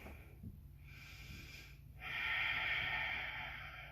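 Slow, deep breathing while holding a yoga high lunge, a softer breath followed by a fuller, louder exhale, close and steady with no talking.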